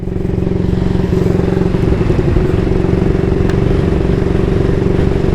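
Loud, close idling of a 1938 AJS Model 22 250cc vintage motorcycle engine, a steady rapid low thumping with a mechanical clatter that holds an even rhythm throughout.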